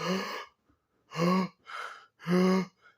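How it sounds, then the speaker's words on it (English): A man gasps sharply for air several times in a row, loud, close breathy intakes separated by short pauses. "I can't be the only one that hears this man gasping for air"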